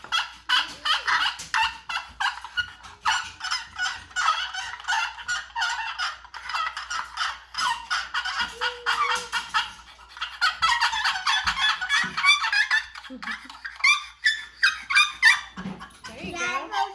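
A hand-blown turkey call at a rustic log cabin deer hunting camp, played by a beginner, giving repeated squeaky, uneven chirps and yelps close by, with voices talking over and between the squeaks.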